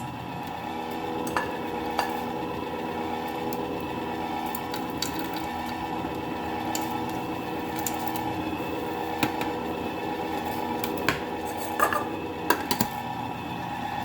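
Ice cream maker churning pumpkin spice ice cream with candied pecans added, giving a steady mechanical hum and whir with faint scattered clicks and ticks throughout, and no talk.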